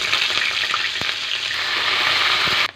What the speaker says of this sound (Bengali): এখন পেঁয়াজ ভেজে নেব।